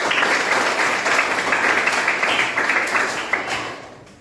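Students in a classroom clap together during a physics lesson, a brief burst of steady applause that gradually tapers off.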